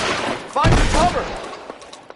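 A short burst of gunfire in an LA Noire shootout, a quick loud volley followed by fainter scattered shots trailing off, with a voice speaking over it.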